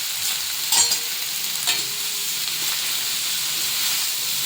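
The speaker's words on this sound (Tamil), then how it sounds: "தேவையான அளவு உப்பு, அப்புறம் காலிஃப்ளவர் இது போட்டு நம்ம வறுத்து எடுத்துக்கணும்." Cauliflower frying in a pan, a steady close sizzle with occasional stirring scrapes, continuous and fairly loud with no voices.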